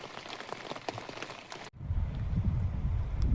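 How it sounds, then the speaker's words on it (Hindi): Heavy rain drumming outside a small tent in a forest while tea and pakoras are made inside, a dense, close hiss of drops on the surface, with a sudden cut to a deeper, rumbling downpour. "क्या बाहर हो रही है बारिश"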